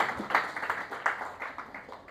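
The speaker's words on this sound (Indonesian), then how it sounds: "Beri tepuk tangan terbaik buat Tuhan Yesus." Church congregation clapping during a Christmas sermon, a short, fairly faint patter of hand claps in an uneven rhythm, with no talk over it.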